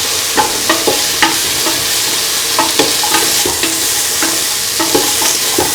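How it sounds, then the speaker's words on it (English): Carrots sautéing in a pan for a bottle gourd and coconut milk stew: a steady loud sizzle with regular scraping stirs of a spatula repeating every second or so, close up and without talk. "Sauteing the carrots"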